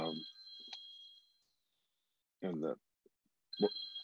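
A mobile phone rings in short electronic bursts at the start and again near the end, mixed with brief stretches of a person talking.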